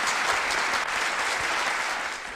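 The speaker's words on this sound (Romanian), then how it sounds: "Dragilor, vreau să-l încurajăm cu aplauze" A concert audience at a Romanian folk music event applauds to encourage a 13-year-old singer, dense continuous clapping that stays loud and even throughout, then eases slightly at the end.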